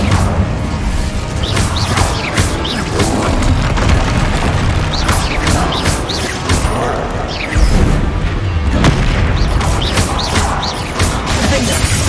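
Incendio fire spell blasts in the Hogwarts Legacy game, loud repeated booming bursts and crashes mixed with combat effects, dense and continuous.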